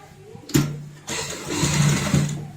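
A sewing machine stitches a shopping bag sewn from an old shirt, its steady motor whir starting abruptly, pausing briefly, then running in close, loud bursts with a low hum.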